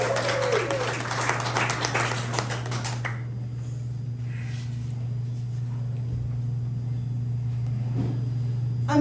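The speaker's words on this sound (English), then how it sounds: "Y'all clap it up for Markeanna." A poetry slam audience claps for a poet coming to the stage, brief crowd applause over a constant electrical hum before it cuts off into quiet room noise.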